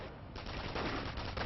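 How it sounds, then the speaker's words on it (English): Machine gun fire in Company of Heroes, a dense rattling burst of rapid shots that runs through the short moment, loud, harsh and continuous, with no voices over it. "The MG is just out of range, but he started firing."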